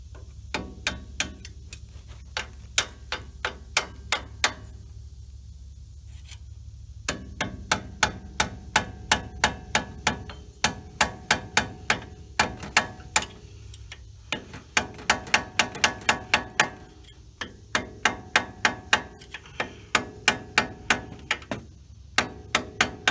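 A hammer strikes metal again and again in fast, sharp, ringing blows on a 1989 Chevy R35 dually pickup during brake and hose replacement, with the runs of strikes broken by short pauses.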